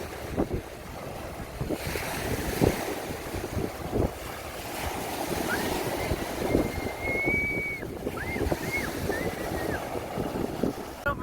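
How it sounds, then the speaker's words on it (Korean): Ocean waves wash ashore over a steady rush of wind buffeting the microphone, with a whistling tone rising briefly midway. "바람이 불어서 파도가 밀려오는 게 시원하게 이렇게 밀려오고요"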